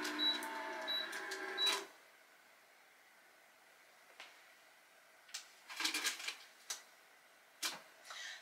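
An HTVRONT Auto Tumbler Press whirs briefly after its start button is pressed, then quiet pauses broken by a few sharp ticks and short mechanical bursts as it operates.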